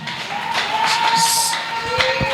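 A church congregation at a spiritual gifts seminar cheers and shouts in acclaim, a lively crowd roar with rising bursts of voices over a steady sustained tone, continuous for a couple of seconds.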